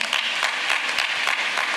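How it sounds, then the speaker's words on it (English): Mourners at a funeral service clap in applause, a steady, dense patter of many hands with a few sharper claps standing out, close and continuous. "Let's give them a round of applause."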